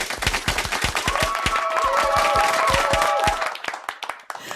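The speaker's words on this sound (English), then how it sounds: "Can we have applause for that?" A live studio audience breaks into applause, dense rapid clapping that holds steady for about four seconds before thinning out, with a sustained melodic tone running above it.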